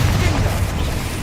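Fire spell bursts in Hogwarts Legacy: a loud, rumbling, sustained blast of low booming explosion noise filling the whole moment.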